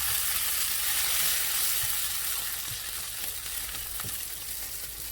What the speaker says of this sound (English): By this time, the vagar should be almost getting there.